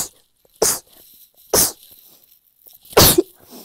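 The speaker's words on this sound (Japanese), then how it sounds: "やばい、くしゃみ出そう。" Three sharp sneezes, close and loud, spaced about a second apart with near silence between them.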